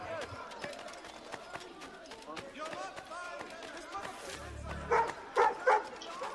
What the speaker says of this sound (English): Yeah, it's a dog.